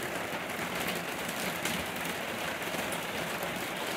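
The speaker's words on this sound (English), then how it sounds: "But all you get is rain." Soft, steady rain falls on a July morning in Quasqueton, Iowa, a faint, even hiss of drops with no other distinct sounds.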